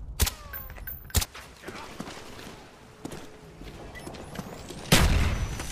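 A claymore mine detonates in a first-person shooter game, a sharp loud blast near the end that follows scattered gunfire-like cracks and thuds through a noisy battle scene.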